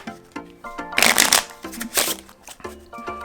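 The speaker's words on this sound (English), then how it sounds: "Hand the deck to the spectator. They get to mix." A spectator mixes an ordinary deck of playing cards with bursts of riffle shuffling, loud crackling runs around the middle of the clip between quieter, lighter card taps and handling.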